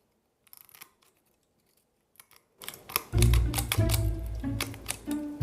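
Scissors snip through material while trimming to fit a flowerpot, a few faint quiet snips at first, then a louder run of rapid close cuts.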